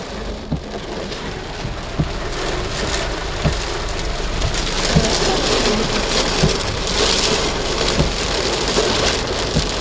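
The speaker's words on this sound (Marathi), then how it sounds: "काय अचानक हा पाऊस ना" A sudden, heavy downpour with strong gusting wind during a storm on the road to Akkalkot makes a loud, dense hiss with scattered thumps and low rumbles, and no voices.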